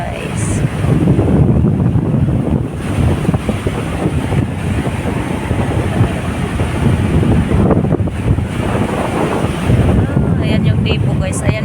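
Loud, continuous roar of rough surf and strong wind buffeting the microphone, steady throughout with no pauses.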